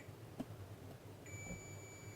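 Continuity beep from a multimeter probing a shorted transistor during a Grundig Transworld Petite radio repair: a steady high tone with a faint harmonic starts partway through and holds to the end over low hum.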